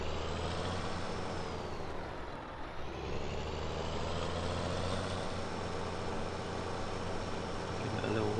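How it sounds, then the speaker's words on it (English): A Big Bud 450 articulated tractor in Farming Simulator 17 rumbles at a steady idle after starting, a continuous loud engine drone with a brief dip early on, unbroken throughout. "So we'll quickly start them up. So this is the Big Bud 450."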